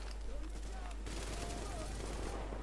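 Rapid bursts of gunfire from a third-person shooter, The Division, crackle steadily across the whole stretch, with a sharper volley partway through and a voice speaking faintly beneath the shots.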